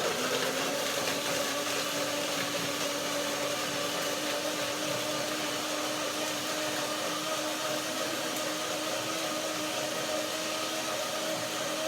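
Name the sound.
blender running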